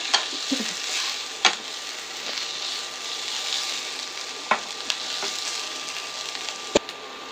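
Chicken and long-sliced capsicum frying in a pan for homemade pizza topping, a steady broad sizzle with several sharp clacks and scrapes of a spoon stirring against the pan, no voices.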